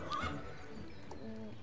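A horse whinnies briefly in a video game, the neigh rising and wavering over soft ambient noise, followed by faint shorter calls.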